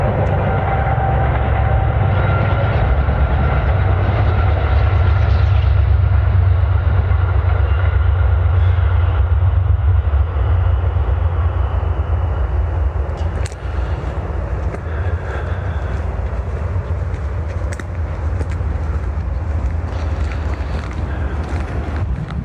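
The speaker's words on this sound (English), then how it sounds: "Speaking of freight trains." Loud, continuous low rumble of a freight train rolling past nearby, with clanking and wind buffeting the microphone, fading slightly toward the end.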